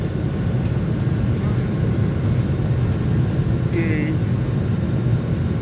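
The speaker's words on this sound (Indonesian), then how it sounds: "ini kita lihat pesawat siap-siap lepas landas. Ya, tancap gas." A Lion Air airliner accelerates down the runway for takeoff, heard from inside as a loud, steady roar of engine and rolling noise with a brief tone rising near the end; a voice speaks briefly.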